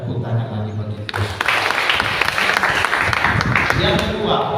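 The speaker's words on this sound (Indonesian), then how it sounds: "Tepuk tangan lagi bagi Tuhan." A church congregation at a Sunday morning service breaks into loud, sustained applause, clapping densely and continuously after a brief stretch of a speaking voice.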